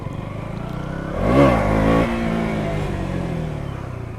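A KTM Duke 200 motorcycle engine revs up sharply and falls back to a steady idle, close and loud, with no speech over it.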